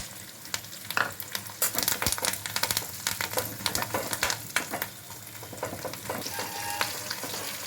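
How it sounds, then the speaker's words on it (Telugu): Garlic slices, curry leaves, dried red chillies and tempering spices fry in hot oil for a tangy old tamarind chutney, giving a close, continuous crackling sizzle with bursts of sharp pops and stirring scrapes. "తాలింపు దినుసులు, వెల్లుల్లి అన్నీ ఫ్రై అయినాయండి"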